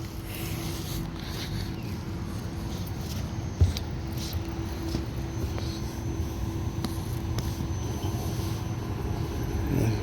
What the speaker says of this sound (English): make sure condenser fan motor comes on